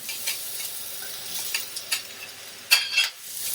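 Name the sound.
onions frying in olive oil in a pan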